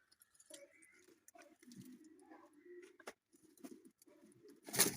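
Pigeons in a coop give soft cooing calls that repeat and overlap. Faint scraping and clinking from cleaning sounds in between, and a sharper burst comes at the end.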